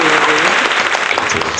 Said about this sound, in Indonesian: Lo tepuk tangan dulu untuk